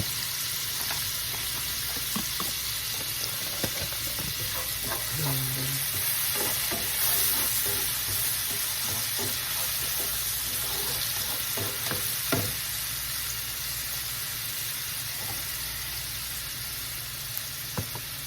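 Onions fry in a pan for Bicol Express, giving a steady, even sizzle with intermittent scrapes and clicks of a utensil stirring them, close up and with no talking.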